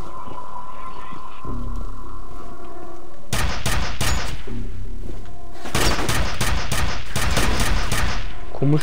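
Gunfire in the video game F.E.A.R., two loud bursts of rapid automatic shots separated by a quieter stretch of low humming game ambience.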